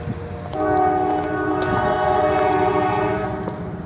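A loud train horn blares steadily over the rumble of a passing train, close by and sustained for several seconds.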